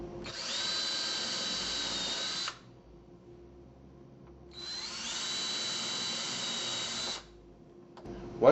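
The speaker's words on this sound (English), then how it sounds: "pre-drill your holes for the screws" A power drill pre-drills screw holes into a door frame for a hang strip, two steady high-pitched bursts of about two and a half seconds each separated by a quiet pause.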